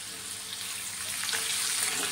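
Curry leaves drop into hot oil already frying peanuts and chili, giving a steady, loud, close sizzle that swells slightly toward the end.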